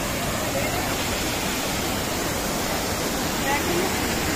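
Stream water rushes steadily along a trail past the Dedugala waterfalls toward Kabaragala, a continuous close wash of flowing water with no pauses from start to finish.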